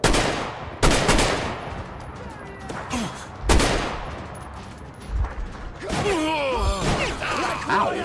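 Gunfire in the video game Metro Exodus: sharp broadband shots and bursts crack out in irregular clusters, with clanking mechanical sounds and brief rattling in between.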